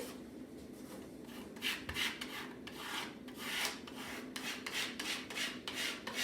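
A tool scrapes black vinyl lettering down onto a wooden board for a Christmas sign, with repeated close, rasping strokes in an uneven rhythm, heard alone without talk.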